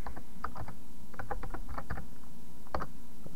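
Keystrokes on a computer keyboard while entering a registry command: a few scattered clicks in short bursts, close and fairly quiet, with no voice over them.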